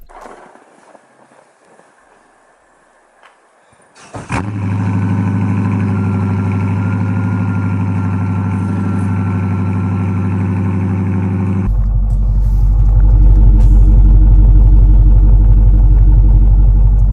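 A Dodge Challenger R/T engine with active exhaust starts and settles into a loud, steady idle, then the exhaust deepens into a heavier, throatier rumble.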